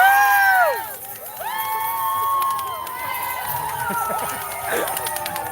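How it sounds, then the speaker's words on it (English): A crowd of voices cheers and whoops for walkers at the Orange County AIDS Walk, loud and close, with overlapping shouts and rising calls that continue throughout. "Who doesn't like a little cheering for just walking?"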